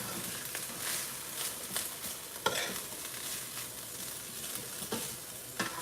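White onions frying in a pan give a continuous close sizzle, with soft scraping and clacks from stirring now and then and no talk.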